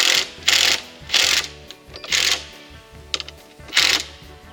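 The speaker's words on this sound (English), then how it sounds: "just drive your lag bolt in and hold it in place" Power driver running a lag bolt into a Dare RoundUp bull ring gate latch: a close, rhythmic series of ratcheting clutch bursts, about five evenly spaced pulses with short gaps between them.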